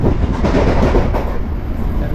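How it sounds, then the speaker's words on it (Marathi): A passenger train rumbles loudly along the rails, with a steady low roar and faint rhythmic clatter heard from on board. "आताच आपण ट्रेन मध्ये बसतोय"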